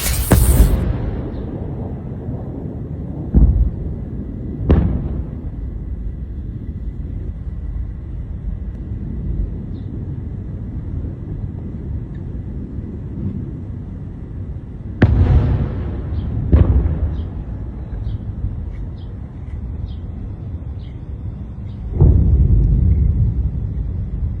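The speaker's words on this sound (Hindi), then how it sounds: "मिसाइल लॉन्च के बाद ईरान का जो मंजर था आसमान में देखिए।" Missile launches in the sky over Iran bring several sharp distant booms, separated by long, low rumbling. A heavier roar swells near the end.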